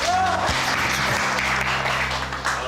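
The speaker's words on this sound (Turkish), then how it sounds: "Alkış alkış." A small group claps in a men's coffeehouse for a few seconds, the clapping loud and fairly dense, with a low tonal hum running underneath.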